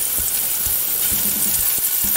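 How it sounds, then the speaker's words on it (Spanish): Cuttlefish frying in oil for a Valencian seafood fideuà gives off a steady, close sizzling hiss with faint low clicks and pops running underneath. "primero vamos a sofreír la sepia"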